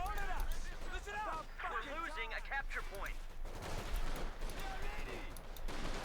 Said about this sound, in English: Bit of skirmishing there.